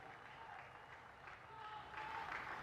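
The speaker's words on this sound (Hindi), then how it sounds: "इंतजार कर रहे हैं जब ताली बजेंगी तभी बल्ला उठाऊंगा" A crowd at a Ranji Trophy cricket match between Uttar Pradesh and Karnataka applauds a batsman's half-century, producing steady distant clapping that swells slightly toward the end.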